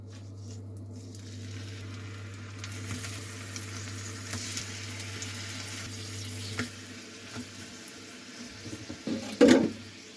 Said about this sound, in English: Anyway, let's get to frying.